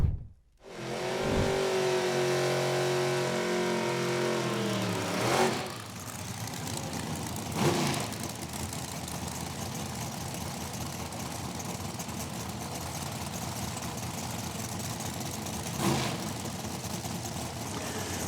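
Drag racing cars roar at Durana Dragway, a loud engine blast that builds and then holds as a steady, wide roar for the whole stretch, with brief surges along the way and no voices.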